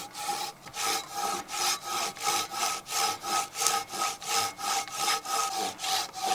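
A bushcraft folding saw, Agawa or Silky, cuts through wood in steady back-and-forth strokes, each pass a loud rasping sweep close by, with an even rhythm of about three strokes every two seconds.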